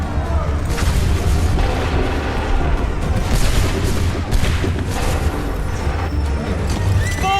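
Musket volley fire in a battle scene from Assassin's Creed III Remastered, with dense booming shots and crackling reports rolling continuously over a low rumble of battle noise, loud and close.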